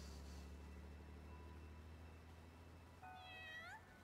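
A cat in the video game Balan Wonderworld gives a single rising-and-falling meow near the end, heard clearly over a steady low hum.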